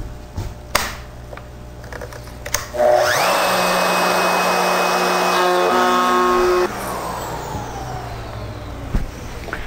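A CMT router bit cuts into a wooden tray bowl, its whine starting abruptly at about three seconds and running loud and steady for nearly four seconds before dropping to a softer spin-down, with workshop noise before and after.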